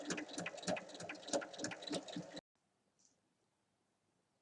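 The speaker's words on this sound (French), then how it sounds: "Et on vient coudre sur la ligne." A sewing machine stitches along a traced line on a fabric bag in a steady, rapid, close-up run for about two seconds, then stops abruptly into near silence.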